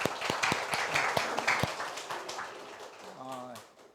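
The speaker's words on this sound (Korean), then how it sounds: "박수 한번 해주십시오." Church congregation applauding together, a steady burst of close, dense clapping that slowly fades out while a voice speaks over it.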